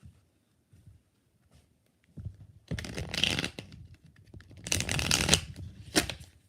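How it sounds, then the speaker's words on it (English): Tarot cards are shuffled by hand during a live reading: after a few soft taps, two bursts of crisp riffling and a short final flutter, close and clear in a quiet room. "Why don't they want to shuffle today?"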